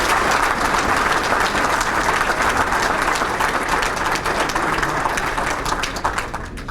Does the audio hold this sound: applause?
yes